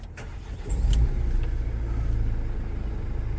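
A 2019 Renault Master van engine cranks and catches, then settles into a steady low idle rumble close by.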